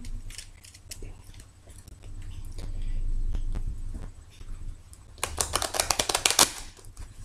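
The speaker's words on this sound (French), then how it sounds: "je vais donc battre les cartes afin d'y déposer donc les énergies" Tarot cards being shuffled for a Monday reading, starting with soft low rustling and shifting, then a dense burst of crisp riffling flicks toward the end, close and fairly quiet.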